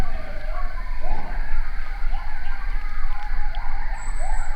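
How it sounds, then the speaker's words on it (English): A pack of coyotes howling and yipping out in the open Iowa countryside, rising and falling wails overlapping continuously over a steady background rumble, fairly loud and carrying. "I can hear the coyotes."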